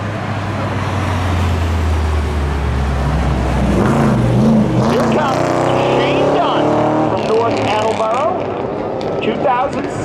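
A 2017 Chevy Camaro at a Seekonk Speedway spectator drag race gives a steady low engine drone that fades into crowd and track noise, while an announcer talks loudly over it.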